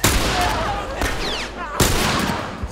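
Gunfire in The Last of Us Remastered comes as loud, close shots, a burst at the start and sharp reports around one and almost two seconds, with clatter and shouting-like game noise between them.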